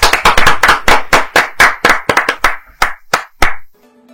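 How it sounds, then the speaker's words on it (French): A small audience claps for a correct quiz answer, producing close, sharp, loud handclaps in a fast irregular patter that thins into a few scattered claps and then stops. "Acclamez pour elle."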